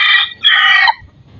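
A rooster crows close by and loud in two strong phrases, a short call and then a longer drawn-out one, before fading to quiet outdoor background.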